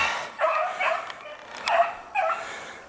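Hunting dogs in a pack chasing a hare give a few excited barks and yips at moderate distance, spaced irregularly over a few seconds.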